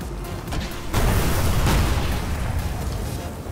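Booming explosions and bursts of weapon fire from the Interceptor vehicle in the Destiny PvP beta on PS4, First Light moon map, with a loud blast near one second followed by sustained rumbling and crackling.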